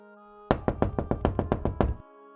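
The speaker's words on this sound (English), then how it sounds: "knock on the front door." Someone knocks on a wooden front door at night, nine firm, evenly spaced raps in a quick steady run, close and clear over a quiet room.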